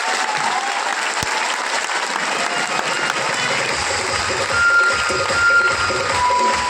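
Seminar audience applauding in a steady, dense patter that carries on throughout, with faint beeping tones appearing toward the end.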